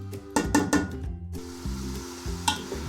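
Potatoes, peas and chicken masala frying in a pan, with a few sharp stirring clatters and a soft sizzle under steady background music.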